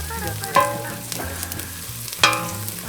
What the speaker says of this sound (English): That's how I mix onions to get them soft.